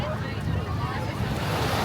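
Ocean surf rolling onto Great Bay Beach in St Maarten, a steady broad wash of waves with some wind buffeting the microphone, continuous and fairly close without pauses.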